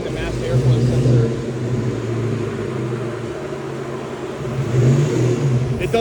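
A supercharged Saleen engine hums and surges on a dyno, a steady low drone that swells near the start and again toward the end, with people talking over it.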